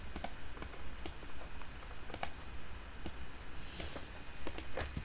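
Clicky computer keyboard typing an ARP command, close sparse keystrokes in short irregular bursts.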